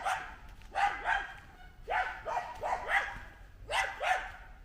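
A dog at a rural Kerala home barks repeatedly, loud and fairly close, in quick pairs and short clusters of sharp woofs with brief pauses between them, alone without talk.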